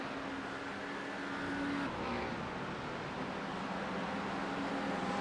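Race car engines of a Porsche and an Acura NSX battling in an iRacing GT league race at Autódromo José Carlos Pace, a steady droning engine roar with a shift in pitch partway through, moderately loud and unbroken.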